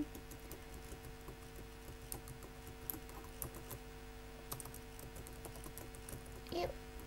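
Computer keyboard typing while an email address is entered into an online feedback form: soft, rapid clicks in irregular bursts under a steady background hum, with no voices.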